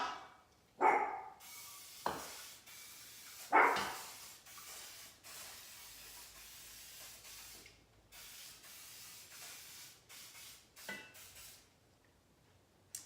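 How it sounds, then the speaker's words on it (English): Pam cooking spray misted onto a muffin pan in a home kitchen, a few short hissing bursts close by over low background noise. "Sprayed it with Pam"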